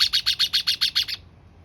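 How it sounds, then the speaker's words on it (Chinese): A small bird perched on an office building rooftop gives a quick run of eight sharp, bright chirps in an even rhythm, loud and close, then falls silent. "你讲讲话给我听嘛，小鸟。"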